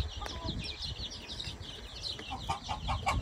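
Sussex and Ligurian chicks peep in rapid, high, repeated chirps beside their mother hen's soft low clucks, all fairly faint against background noise.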